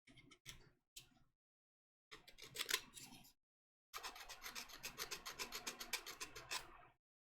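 A small blade or tool scrapes and clicks at burrs on a model part in short separated bursts, then a longer run of rapid rhythmic scratching strokes, close and quiet with no voices.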